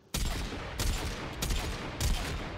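Rifle fire in the Warframe video game, the weapon fitted with a fire-rate mod, crackles in steady rapid bursts of three or four long volleys, loud and close, with no voices.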